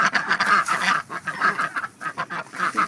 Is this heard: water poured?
no